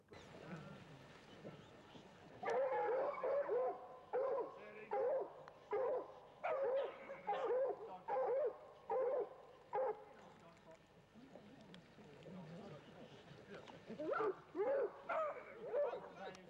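Hunting terriers bark during a fox hunt, rapid bursts of yapping in a steady rhythm that pause briefly, then return at the end, moderately close, with some voices in the background.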